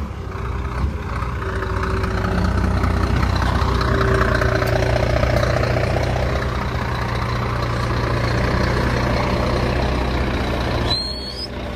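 A truck engine idles steadily with a deep, even low rumble and mid-frequency drone for about eleven seconds, close and loud, ending with a brief sharp hiss near the end; no one speaks.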